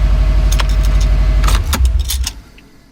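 A Subaru Forester XT engine idles with a deep steady rumble, while keys jangle close by in several quick bursts before the sound drops near the end.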